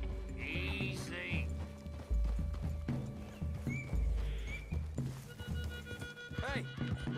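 Horses in the Red Dead Redemption video game clop along at a steady trot and let out several whinnies and snorts, close and clear, mixed with a musical score and occasional voices talking.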